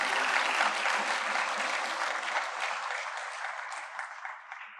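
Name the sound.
audience applause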